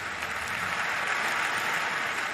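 Applause fills Westminster Abbey after Earl Spencer's eulogy, a steady, dense wash of many hands clapping that rolls on without a break, heard at a distance through the large stone interior.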